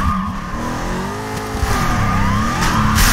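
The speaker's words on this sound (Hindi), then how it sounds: "मैं जा रहा हूँ अपनी मस्त ड्रिफ्ट ड्रिफ्ट मार के" A car drifting in a Fast & Furious video game, its engine droning steadily under sustained, wavering tire squeal as it slides through turns, loud and close throughout.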